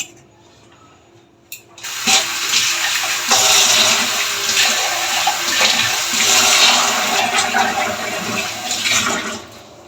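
Water gushes steadily from a tap into a container being rinsed out after blending, a loud splashing stream starting after a short quiet pause and running for several seconds before easing off.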